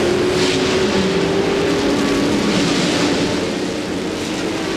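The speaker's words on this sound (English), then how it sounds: "As the field comes down, the green flag waves, and we are underway at Sebring." At the start of the 1999 Twelve Hours of Sebring, a field of race cars, including a Judd V10-powered Riley and Scott, roars down together in a dense, loud, sustained engine rumble that eases slightly near the end.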